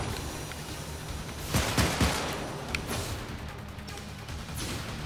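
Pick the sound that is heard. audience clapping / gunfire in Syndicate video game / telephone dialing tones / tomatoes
gunfire in Syndicate video game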